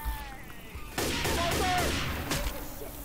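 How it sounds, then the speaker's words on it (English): Players in Left 4 Dead 2 open fire on the Tank, a loud burst of rapid overlapping gunshots that starts about a second in after quieter background game noise and rattles on until the end. "Shoot the tank while he's down there."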